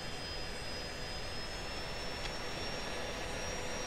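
Jet engine in the Falcon BMS flight simulator, a steady loud roar with a high whine rising slightly in pitch as the throttle is eased up.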